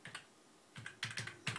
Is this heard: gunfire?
no